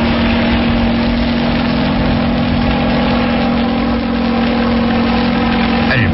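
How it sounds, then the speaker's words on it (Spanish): Seaplane engines at full power as the aircraft climbs in flight, a loud, steady droning roar that holds unbroken throughout, with no talk. "se eleva con toda la potencia de sus motores y gana más y más altura en vuelo"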